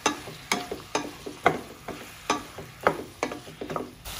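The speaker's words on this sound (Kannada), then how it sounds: "ಟೊಮೊಟೊ ಮತ್ತು ಮೆಣಸಿನ್ಕಾಯಿ ಹಾಕೊಂಡು ಫ್ರೈ ಮಾಡ್ಕೊಳ್ತಾ ಇದ್ದೀನಿ" Tomatoes and green chillies frying in oil in a pan, a close sizzle broken by a steady rhythm of sharp spatula scrapes and taps, about two strokes a second, with no speech.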